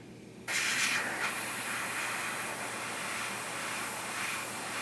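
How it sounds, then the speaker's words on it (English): An airbrush sprays paint onto a custom quarter-scale Hellboy figure, a steady close hiss that starts abruptly after a brief quieter moment and holds evenly, with slight flutters as the spray is flicked. "where I want it to fade up, I just kind of flick the airbrush up"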